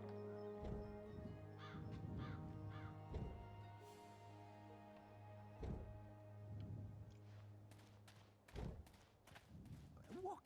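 Crow in the video game Dreamfall: Chapters, cawing repeatedly in harsh separate calls over a steady game ambience drone, with occasional thuds and a voice talking.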